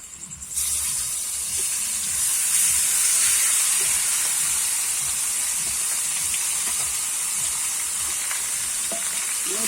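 Marinated chicken hits a hot pan for a Bengali chicken kosha, bursting into a loud, steady sizzle and hiss that holds without letting up.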